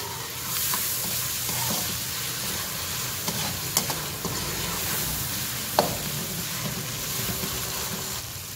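Ginger and garlic fry with already browned onions for a vegetable biryani, a continuous close sizzle with occasional stirring scrapes and a few sharp clicks.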